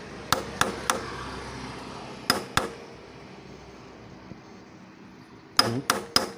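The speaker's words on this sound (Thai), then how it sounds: "ไขควงตัวนี้ตอกเข้าไปนะครับ" Sharp metallic taps strike in short clusters, two or three blows at a time, as a screwdriver is hammered into a brake master cylinder cap bolt, separated by quiet pauses.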